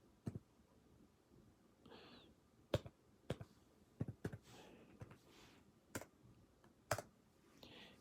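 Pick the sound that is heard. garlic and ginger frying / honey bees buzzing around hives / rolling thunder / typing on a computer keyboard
typing on a computer keyboard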